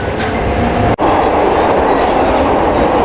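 Glasgow Subway carriage running between stations, a loud steady rumble and rattle of wheels on track filling the whole stretch, with one brief dip partway through.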